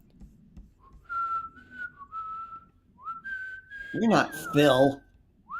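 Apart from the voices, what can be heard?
person whistling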